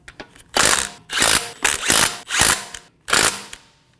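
A hand ratchet tightens the front wheel lug nuts on a 2018-2024 Volkswagen Tiguan during a brake job, heard as five close, loud bursts of rapid clicking separated by short pauses.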